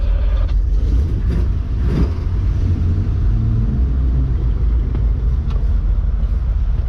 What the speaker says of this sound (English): That car sounds good.